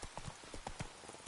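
Hooves of the horse Roach galloping in The Witcher 3: Wild Hunt, a quick rhythmic clip-clop of hoofbeats, fairly faint and close, with nothing else over it.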